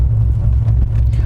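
A Corvette ZR1 on the move gives a deep, steady engine rumble, close and loud, holding an even tone through the short stretch.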